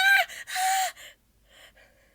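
Heavy gasping breaths, loud and close, come in two strong ragged bursts and then fade into quieter panting, with no talking.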